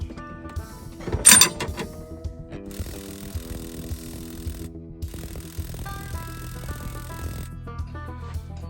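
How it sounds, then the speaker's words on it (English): A big pulley nut is worked loose on an LT 5.3 engine during a rebuild and camshaft removal, with ratcheting clicks and metallic clanks, including a sharp clank early on, over a low mechanical hum. "So let's start loosening up this big nut and then see if we can get this pulley off."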